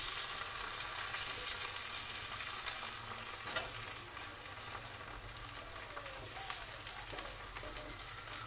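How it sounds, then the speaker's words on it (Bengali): Chopped tomatoes frying in a pan with curry leaves and sugar, a steady close sizzle with occasional spatula scrapes and taps as they are stirred. "এবার আমি দেবো টমেটো কুচি"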